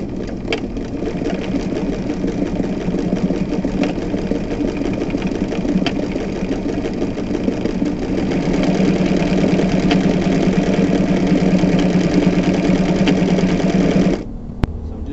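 An old sewing machine running continuously while stitching fabric, a loud, even mechanical whirr with a rapid needle rhythm that holds steady for about fourteen seconds before stopping abruptly.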